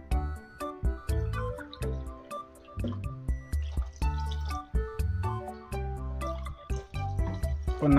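Coconut milk and water pour and splash into a pot of tomato rice close by in a series of uneven glugs and drips.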